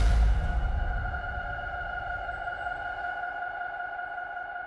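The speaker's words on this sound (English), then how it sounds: "Here is dub echo." Dub echo DJ effect: a sharp sound at the start trails off into a long string of repeating, slowly fading echoes, with steady ringing tones lingering throughout.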